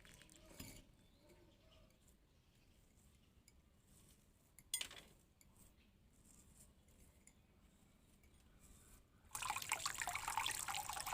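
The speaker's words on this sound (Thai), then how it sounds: "เมื่อล้างรากให้สะอาดดีแล้วนะคะ" Water rinses the roots of a badly dried-out, sunburned cactus, a faint trickle with a few clinks and drips, then a louder, steady rush of running water near the end.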